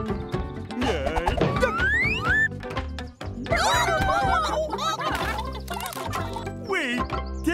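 Cartoonish chicken clucks and squawks in a Dr. Panda kids' game jumble together over playful background music, loud and busy, with a brief pause midway.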